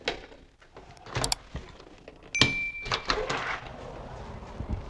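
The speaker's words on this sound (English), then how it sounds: "The front door is open." A front door opens with a clunk and rattle, followed by a short electronic chime from a smart home sensor, all close by in a quiet room.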